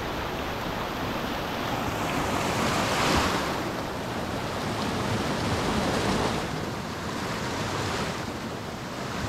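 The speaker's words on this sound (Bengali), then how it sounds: "এটা আপার সাইডের ঝর্ণাটা যেটা আসছে" Water rushes over the upper section of a waterfall in a steady, loud, broadband roar that swells slightly and never pauses.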